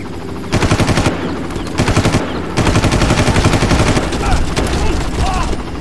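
Rapid machine gun fire from a video game rattles in loud, sustained bursts separated by brief gaps, with a voice heard faintly amid the shooting.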